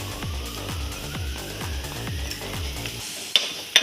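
Onion masala with chili powder being cooked for egg cutlets: about ten rhythmic scraping strokes of a spoon against the pan over a low sizzle, then a short quieter stretch with a couple of sharp clicks.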